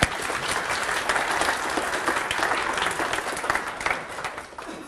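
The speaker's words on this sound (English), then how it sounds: "Give him a nice round of applause." A hypnosis demonstration audience claps steadily throughout, a dense, even wash of applause from a moderate-sized crowd with no voices over it.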